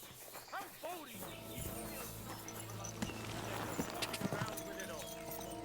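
Horse hooves clip-clop in a steady trotting rhythm in the medieval video game Kingdom Come Deliverance 2, clear and close, with game ambience underneath.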